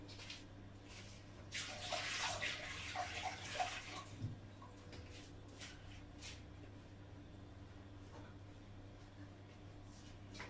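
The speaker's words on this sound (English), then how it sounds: "Let me just give it a wash quickly." Tap water runs steadily as a round kitchen item is rinsed quickly during biscuit baking, with a louder splashing stretch near the start that settles into a constant flow.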